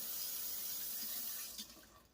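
Warm water runs from a kitchen tap for activating yeast in homemade French bread dough, a steady close splashing stream that tapers off near the end, with no talking.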